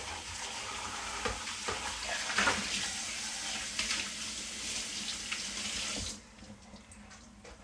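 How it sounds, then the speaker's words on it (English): Water runs steadily from a kitchen sink tap onto a dish being washed, with splashing and clinking for about six seconds before the flow stops and the sink goes quiet. "Give me 2 seconds to wash a dish here."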